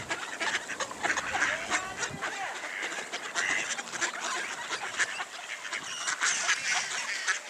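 Mallard ducks quack in a dense, continuous chorus close by in winter, overlapping calls filling the whole stretch with only faint human voice beneath.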